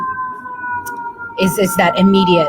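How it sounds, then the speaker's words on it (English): A steady wailing siren tone holds throughout as sirens pass outside an apartment, with a person speaking over it in the second half. "sirens are going past my apartment."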